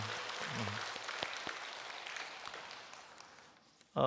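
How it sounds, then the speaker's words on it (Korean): Church congregation applauding during a Saturday dawn prayer service, a dense broadband clatter of many hands held steady for several seconds, then fading toward the end before a sudden loud sound cuts in. "우리 또 한 번 더 우리 하나님 앞에 감사와 찬양의 박수 드리겠습니다."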